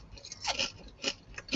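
Crunching on salty, steak-seasoned potato chips, with several crisp bites and chews in close, quiet succession and no talking.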